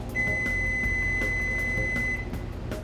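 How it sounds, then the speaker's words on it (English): An oven timer being set gives one long, steady, high-pitched electronic beep lasting about two seconds, loud and close over a low background hum. "So I'm going to set the timer for 25 minutes for the low end of the recommended time period"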